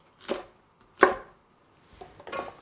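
A knife finely chopping ginger on a board: four separate, fairly soft thuds spaced unevenly, close by, with quiet pauses between them and no voices.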